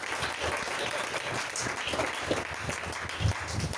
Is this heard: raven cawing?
no